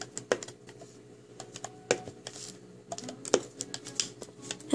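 Rainbow Loom rubber bands being looped into a single chain, giving faint, quick snapping and soft clicking ticks at an uneven pace, close but quiet.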